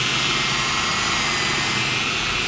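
A VLM upholstery cleaning machine runs at 1,500 RPM with a loud, steady, unbroken whirring roar, heard close up with no talk.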